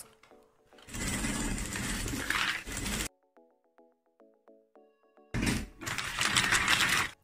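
An electric sewing machine stitches folded fabric for a gele turban, two loud bursts of rapid mechanical whirring separated by a quiet pause with faint light clicking, close to the microphone.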